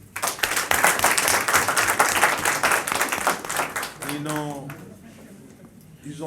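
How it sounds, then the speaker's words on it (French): Audience at a Malian handball federation election event applauding officials: dense crowd clapping for about four seconds, then fading out as a voice takes over near the end. "le bouillant Sédou Guindo, je vous demande de les applaudir."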